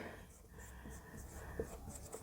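A pen or marker scratches steadily across a writing surface for a couple of seconds, a soft continuous scraping heard close against a low background hum.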